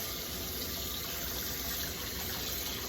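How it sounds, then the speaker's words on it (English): Tap water runs steadily into a cast iron skillet as it is rinsed, a constant close splashing rush with no talking. "And now I'm just going to give it a good rinse."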